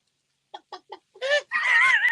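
A voice imitates a chicken: three short clucks followed by a longer, strained squawking call, close and fairly loud.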